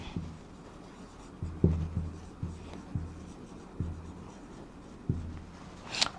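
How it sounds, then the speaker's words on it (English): A pen writing notes by hand on paper while studying burn treatment, with soft scratchy strokes and distinct taps, close and quiet, with no talking. "So write down anterior chest"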